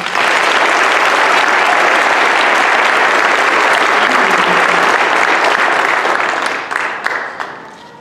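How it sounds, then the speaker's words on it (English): Loud, sustained audience applause at a school awards night, a dense wash of clapping that holds steady for several seconds before thinning and tapering off at the end, with a few voices faintly mixed in. "Let's give them one more round of applause."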